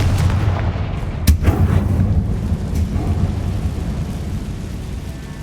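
Confringo blasting-spell explosions in the Hogwarts Legacy video game on PS5, with a sharp blast followed by heavy rumbling booms over a dense, continuous roar, loud and close.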